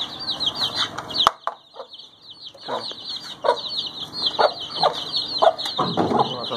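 Several hens cluck and chatter close by in a farmyard coop while being given water, with an ongoing high insect-like trill behind them and a sharp knock near the start.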